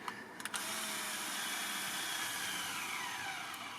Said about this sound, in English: we're just going to drive in one of these 1-inch number 8 screws